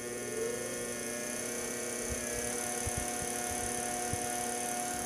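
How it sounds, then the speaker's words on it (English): Industrial DC motor turned up by potentiometer, humming quietly and steadily with a constant tonal whine and a few soft low thumps, no talk. "So now I'm gonna turn the potentiometer up."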